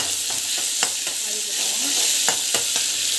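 Onions sauté in a pan with a steady bright sizzle, while a spoon stirs and scrapes through them in scattered taps and strokes, close up and with no talking.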